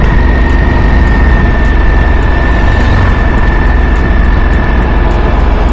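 An Aprilia RS 457 motorcycle engine runs loudly and steadily throughout, a constant low rumbling drone with a faint tonal whine on top and no talking.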